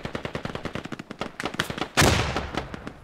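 PPSh submachine gun firing in the Squad video game, a rapid rattling burst of shots followed by a loud explosive blast that trails off, close and prominent.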